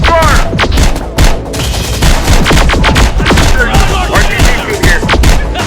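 Enemy gunfire in Terminator: Dark Fate – Defiance: sustained, loud automatic bursts and sharp shots rattle continuously, with deeper booms mixed in. Voices can be heard in the thick of the battle.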